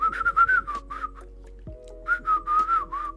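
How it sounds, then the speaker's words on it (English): A person whistles a quick run of short, bright notes, pauses, then whistles another similar phrase, close and clear with a faint low hum beneath. "Yes, I can whistle."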